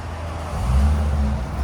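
A 2002 VW EuroVan 2.8L fitted with a Spec-D muffler rumbles with a deep, steady exhaust drone that swells briefly as if revved, heard close for under two seconds.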